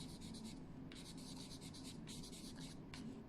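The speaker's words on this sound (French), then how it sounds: "Donc, je vais l'écrire là." Pen writing by hand on paper, several short bursts of steady scratchy strokes with brief pauses between them, close and clear, with no talking.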